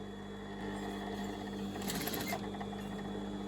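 A sewing machine hums steadily as it stitches quartered elastic onto trousers, with a short busier burst of stitching near the end, close and fairly quiet.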